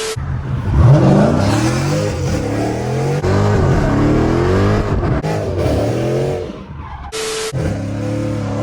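A modded Dodge Charger Scat Pack's engine revs hard at a race launch, loud and close, with rising harmonic sweeps and a brief tire squeal before it lifts off near the end.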